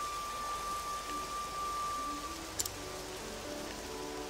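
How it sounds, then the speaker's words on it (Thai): Rain falling in the video game Octopath Traveler 2, a steady soft hiss of rainfall with a faint tonal hum and one brief tick, quiet and continuous with no talking. "นี่ฝนก็กำลังตกด้วยนะ"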